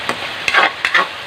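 Soft tomatoes mashed in a cooking pot for mung bean soup with glass noodles, a few short, close scraping and squishing strokes over a light background hiss, no voices.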